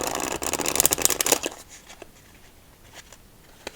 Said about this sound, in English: let me do a regular shuffle, like most people do.